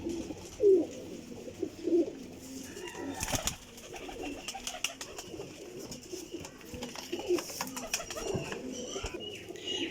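Rampuri black-faced female pigeons coo in repeated soft, throaty bursts at close range, over a busy background of rustling and faint other bird sounds, with no clear talk.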